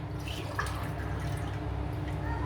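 A glass of water being poured into a pot to start a homemade strawberry drink gives a soft, continuous trickle and drip, quiet and unbroken.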